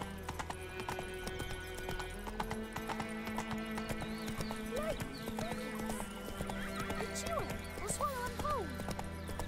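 Hoofbeats of Roach, the horse in The Witcher 3, clip-clop steadily in a fast gallop, with whinnies and a game music score layered over the rhythmic hooves.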